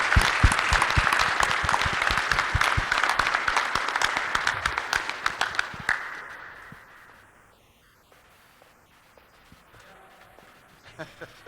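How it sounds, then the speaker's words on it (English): Audience applause for a presenter at a safety award ceremony, loud and dense at first, thinning into scattered claps that fade out after about six seconds, leaving quiet room noise with a few faint sounds. "give him a round of applause"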